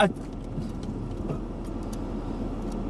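A van is manoeuvred to park on a street, with a steady low engine rumble heard from close inside the vehicle, continuous and fairly quiet throughout.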